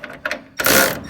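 Ratchet tightening bolts on bed rail brackets of a 2017 Chevy Silverado 2500HD during a fifth-wheel rail kit install, a few short clicks followed by a louder continuous ratcheting burst, close up.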